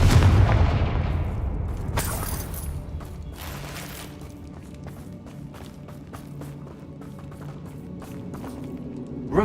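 A Confringo fire spell detonates in Hogwarts Legacy near a battered bridge: a loud booming blast opens, then a second sharp burst follows, trailing into rumbling debris and scattered clanks.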